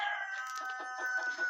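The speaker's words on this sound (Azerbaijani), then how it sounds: "Baxın, qırtıldayır," A hen guarding her newly hatched chicks gives a run of soft, close clucking calls that blend together over a steady tone.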